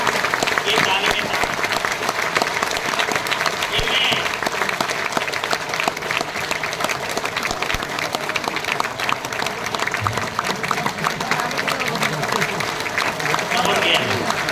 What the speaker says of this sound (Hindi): अगर 108 ताली कोई जोर से मारता है